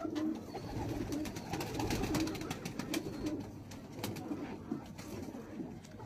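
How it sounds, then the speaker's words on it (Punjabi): Pigeons coo softly and repeatedly in a loft, a steady low burbling that runs through the whole stretch at moderate distance, with light background noise. "ਅੱਛੇ ਕਬੂਤਰ ਦੀ ਆਪਣੀ ਕਲਾਸ ਹੈ।"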